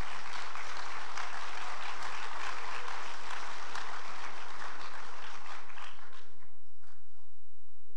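An audience at a high school senior awards ceremony applauds students being honored, a broad, dense wash of clapping that fills the room and then thins and fades away over the last couple of seconds.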